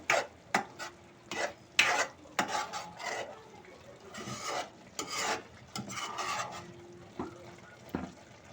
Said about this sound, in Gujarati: આપણે કાશ્મીરી લાલ મરચું નાખશું અને એને આપણે હલાવી નાખશું